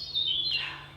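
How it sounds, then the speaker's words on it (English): A single bird chirps briefly and clearly at a historic Dutch fort along the old flood defense line, a short high call against quiet outdoor background. "Hear the birds?"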